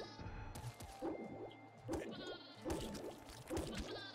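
Sheep in the video game Nuclear Throne give repeated loud bleats, roughly one every second, alongside other game sound effects.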